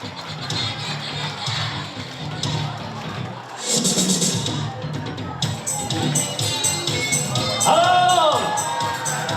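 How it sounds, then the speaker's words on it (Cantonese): A concert audience roars and applauds, a dense wash of cheering and clapping that swells louder partway through, with a voice calling out over the noise. "掌聲在哪裏"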